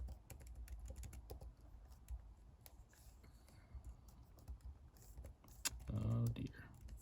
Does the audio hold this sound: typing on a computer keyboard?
yes